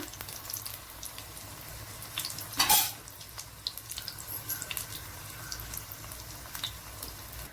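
Spinach leaves coated in batter for palak pakoda drop into hot oil, a quiet steady sizzle and bubbling with one brief louder splash as a leaf goes in, fainter crackle continuing afterward.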